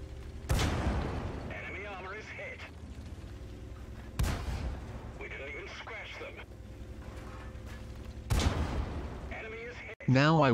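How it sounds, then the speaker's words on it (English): Three heavy booming tank cannon shots of AP shells in World of Tanks, evenly spaced a few seconds apart, each a sharp loud blast with a short rumbling tail, with game effects and a speaking voice between shots. "Now I will switch to lower penetrating AP shells, and use manual aiming"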